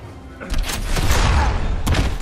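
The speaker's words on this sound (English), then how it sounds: "when you push this red button, you can actually launch these rockets over at Superman there" Rockets launched by a big red button in the fighting game Injustice: Gods Among Us, heard as a loud rumbling barrage of booming blasts and whooshes, with a sharp extra hit near the end.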